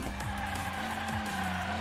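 A toy-style race car in Hot Wheels Unleashed, heard as a steady, loud engine drone with tire skids and squeals over a continuous racing bed, about two seconds, with no talk.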